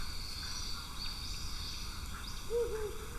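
An owl hoots once, a short low wavering call over a steady hum of night insects and distant ambient noise.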